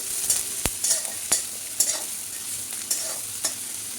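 Chopped onion stirs and fries in hot oil, a soft steady sizzle broken by sharp, regular scrapes and knocks of the spoon against the pan, close and moderately quiet.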